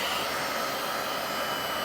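Heat gun blowing hot air onto a thermoplastic strip for a resting hand splint, a steady close whooshing roar with no change for its full length.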